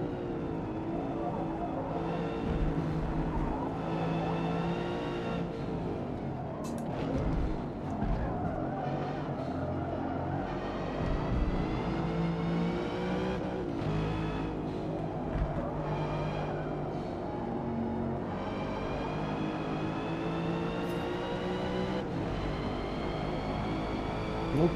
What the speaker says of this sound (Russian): В отсечку передачу кручу.